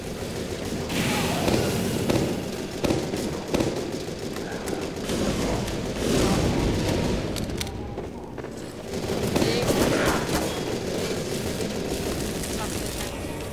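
Rapid gunfire in the video game Team Fortress 2 crackles in dense bursts with explosive booms, continuous and fairly loud, while someone talks over it.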